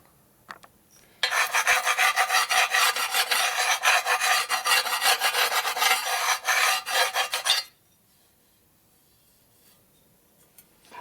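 Hand filing deburrs the metal edges of a Harley Shovelhead big-bore stroker motor part: about six seconds of loud, rapid, rhythmic rasping strokes close by, then quiet.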